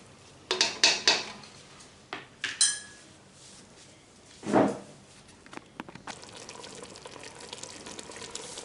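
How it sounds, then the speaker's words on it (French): A cocotte pot lid set down and closed while cooking a tagine of quail, with sharp metallic clinks and clatters of cookware near the start, then softer kitchen handling and faint background noise. "Après, je vais fermer ma cocotte et laisser cuire."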